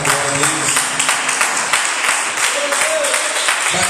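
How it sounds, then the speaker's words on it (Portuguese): A church congregation clapping hands together in praise, a loud rhythmic run of claps close by, with voices talking over it. "Glorifica o Senhor com as palmas, Senhor, alegria. Bate mais palmas, glória a Deus."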